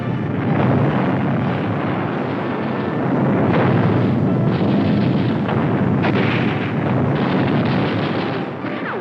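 Heavy shell fire during the battle on Iwo Jima forms a continuous, muffled rumbling barrage of distant blasts on an old wartime newsreel soundtrack.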